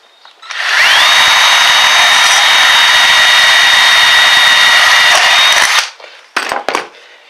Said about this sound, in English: We'll drill a first hole like this into the plastic.